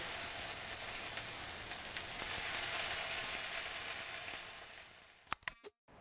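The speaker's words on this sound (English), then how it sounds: "Hear that sizzle?" Strips of tempeh bacon sizzle steadily in a greased skillet, a loud, continuous hiss that ends with a few sharp clicks and clatters.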